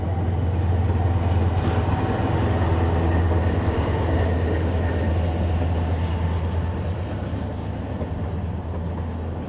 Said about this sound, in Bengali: ট্রেন যাওয়ার জন্য সিগন্যাল দিল। ট্রেন যাবে এখন একটা।